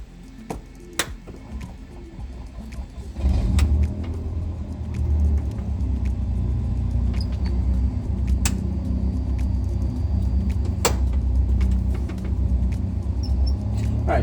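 Light aircraft in Microsoft Flight Simulator at Oshkosh during EAA AirVenture, engine starting up with a sudden jump to a steady low rumbling drone that holds throughout while taxiing, with scattered clicks and ticks over it.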